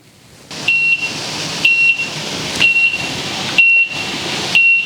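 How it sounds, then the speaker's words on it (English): A loud electronic kitchen timer beeping during apple pie filling canning, in a steady repeating pattern, about one beep burst per second, with no talking. "The timer is going off. Whew, and that is annoying."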